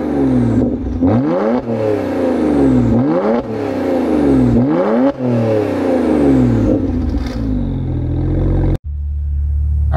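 A BMW 1M's N54 engine with a Borla catback exhaust revs repeatedly through several rising and falling sweeps, loud and close, with a deep rumbling tone, then suddenly cuts to a low idle.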